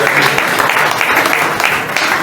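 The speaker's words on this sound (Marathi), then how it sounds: "टाळ्या वाजवायला हरकत नाही, चांगलं काम केलं." A crowd at a Brahmin community Gudi Padwa get-together in Ratnagiri claps for an award-winning blood donor, a loud, dense and continuous round of applause from many hands throughout.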